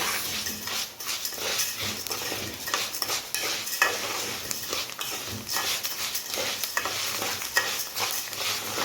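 Rice fries in a pan for rice kofta while the kofta simmers, giving a steady close-up sizzle broken by repeated scraping stirs and utensil clinks. No one speaks.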